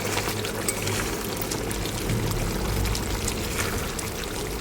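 Finished village-style Bengali fish curry pours from a pot in a steady close liquid stream for several seconds, with no voices.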